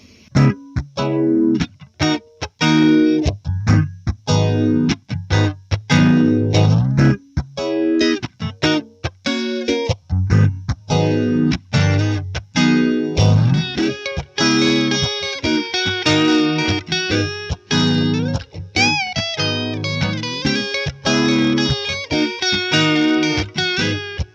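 Electric guitar riff with swirling, wobbling modulation and a wash of reverb, played continuously with no voices.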